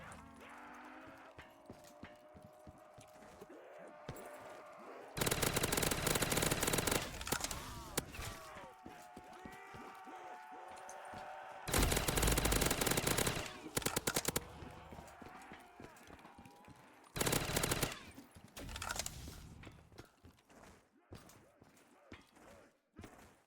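Heavy-recoil machine gun in a video game rips through three loud sustained bursts of rapid fire between quieter stretches, with a voice talking throughout the calmer parts.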